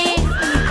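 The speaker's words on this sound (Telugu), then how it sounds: "హిన్నట్టు గుర్రం వెళ్ళే" A horse gives a short, high whinny that rises and wavers over a steady musical background, clear and close for under a second.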